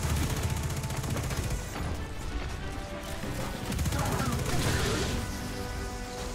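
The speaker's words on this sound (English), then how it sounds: "That's because they're shooting us." Enemy gunfire in a Destiny 2 firefight on PC: a continuous, dense barrage of shots and impacts, loud and close, with a voice faintly under the din.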